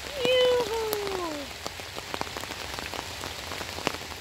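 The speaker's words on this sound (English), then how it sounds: "I'm thankful to God that it's raining." Steady rain falling outdoors, a continuous patter of drops with scattered louder taps, while a voice sings or calls out briefly near the start.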